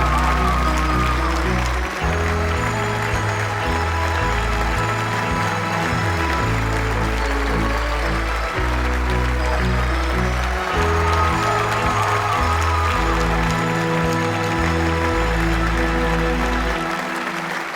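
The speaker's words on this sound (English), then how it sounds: "Let's also give a very warm round of applause for our third place team from Sweden, Team C" Sustained audience applause for the first-place team from Romania, Team RAAO, at the Shell International Engineering Competition design awards at Beakerhead, loud and steady throughout with a low musical backing underneath.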